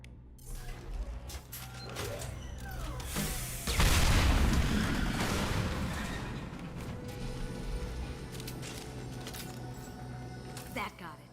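Fuel tanks blow apart in a Mass Effect 2 game scene, a heavy booming crash around the midpoint that rumbles on under a steady background, with scattered impacts and creaks before and after.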